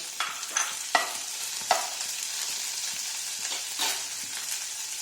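Shrimp dropped into a hot frying pan, giving a steady bright sizzle with a few sharp spatters and stirring scrapes, close up with no talking.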